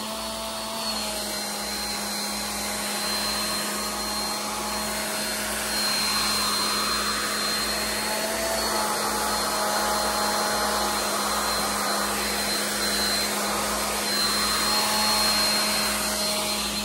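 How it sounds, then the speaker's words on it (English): A blow dryer runs on high, shrinking plastic wrap around a fishing-themed Father's Day gift basket; its steady, loud, unbroken whir continues with no talking. "If you're using a blow dryer and it's not shrinking your bag"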